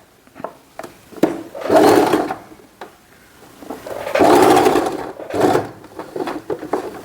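A sewing machine stitches a long silk blouse in runs, with two sustained bursts of motor whir separated by quieter pauses and brief clicks, close and fairly loud with no talking.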